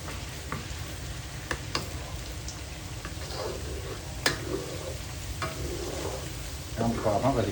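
Chopped garlic frying over full heat in a pan of hot oil for crispy fried garlic, a dense, steady sizzle with sharp crackles and occasional stirring clicks, close and loud throughout.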